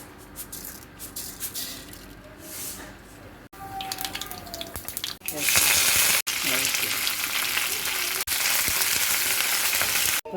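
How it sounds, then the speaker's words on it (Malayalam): Mustard seeds drop into hot coconut oil and a loud, close sizzle bursts up and holds steady, after quieter kitchen stirring and clinking sounds. "വെളിച്ചെണ്ണ വെച്ച് കൊടുത്ത് അതിലേക്ക് നമുക്ക് കടുക് ഇട്ട് കൊടുക്കാം"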